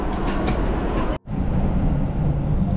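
A steady, close rumble of a Japanese commuter train in motion, with a brief drop-out before the continuous rolling noise resumes.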